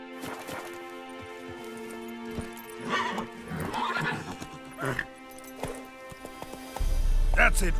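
Horse whinnies and hoofbeats from The Witcher 3: Wild Hunt, a few neighs rising over steady game music and ambience, with hooves clopping and a louder thump near the end.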